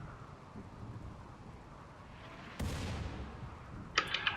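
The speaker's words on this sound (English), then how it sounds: "The mortars are coming in." Incoming mortar fire in the RimWorld video game: a low rumbling whoosh swells abruptly and holds, followed by a couple of short sharp impacts near the end, fairly faint over a windy background.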